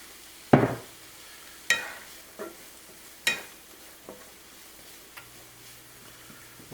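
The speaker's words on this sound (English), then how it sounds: "we'll let that saute for 5 minutes" Chopped ingredients stirred in olive oil in a pan for a chicken tikka masala, with sharp scrapes and clatters of a utensil at irregular intervals over a faint, steady sizzle, no voices.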